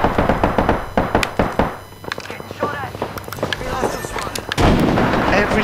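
Apex Legends firefight with a grenade blast amid rapid gunfire, sharp repeated shots and a heavy broadband explosion toward the end, with a player talking over the action.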